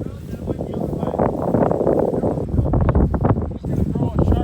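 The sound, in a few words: strong wind on a golf course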